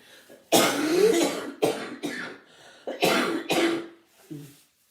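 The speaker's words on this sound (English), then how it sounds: "And now I'm going to cough." A close, loud fit of coughing: several rough, throaty bursts in quick succession, ending with a softer clearing of the throat.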